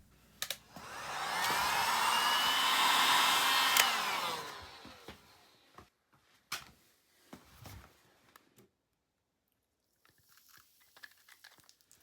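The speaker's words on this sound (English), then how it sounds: "I'll use the heat gun trick again and apply some penetrating oil" Heat gun blowing on a seized bicycle bottom bracket cup of a Bridgestone MB-6, a steady close whooshing roar for a few seconds that cuts off, followed by scattered clicks and metallic taps.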